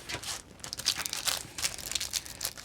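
Plastic packaging from a haul of planner and art journalling supplies crinkles and crunches steadily at close range, in continuous rustling bursts with no talking.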